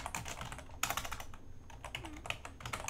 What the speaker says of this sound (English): While you're typing, of course.